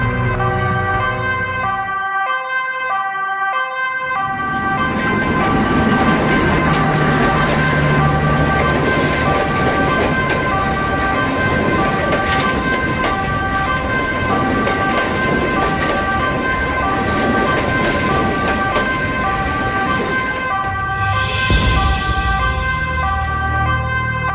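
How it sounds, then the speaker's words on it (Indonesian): A railroad crossing signal on an Indonesian railway sounds as a loud, steady electronic alarm of repeating tones that carries on without a break for about twenty seconds. "kamu berhenti karena ada perlintasan kereta api yang menutup di depan"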